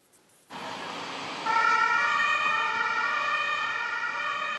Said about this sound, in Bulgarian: разговорите често биват прекъснати от сирени